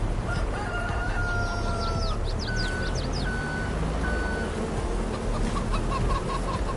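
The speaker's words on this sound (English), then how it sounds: "Yes, chickens, I can hear you." A flock of about fifty hens and one rooster clucks and crows in Farming Simulator 22, loud and continuous with repeated clucks and calls over a dense farm-machine rumble and reversing beeps.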